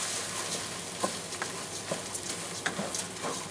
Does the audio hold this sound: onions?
yes